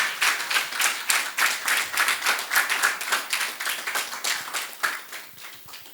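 Audience applause welcoming a guest onto a talk-show set, a steady run of many hands clapping close by for about six seconds, with individual claps audible through the crowd sound and no talking over it.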